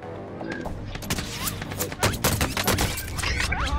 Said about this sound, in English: Oh, someone's shooting from the right.